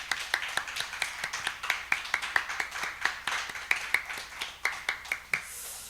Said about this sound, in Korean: 우리 한빛 선교회, 그리고 우리의 모든 부모님들 건강하도록 다시 한번 격려의 박수 부탁드리겠습니다